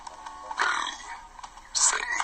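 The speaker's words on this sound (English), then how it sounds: "Can you burp on cue?" A person burps on cue, letting out a couple of close, croaky belches separated by a short pause, with some quiet vocal sounds between them.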